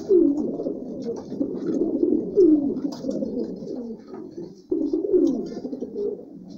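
Breeding pigeons, several pairs sitting on eggs, coo close by in repeated throaty rolling calls that overlap in soft, low rhythmic waves, with faint higher chirps above them.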